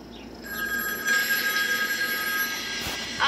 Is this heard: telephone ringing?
yes